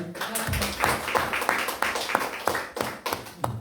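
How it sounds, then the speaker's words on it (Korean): A church congregation clapping during a Sunday service in thanks to the people preparing gifts, a moderate crowd of distinct hand claps in a loose, uneven rhythm, fairly quiet and with no talk over it. "준비해 주실 분들 수고하시라고 박수 한번 드립니다"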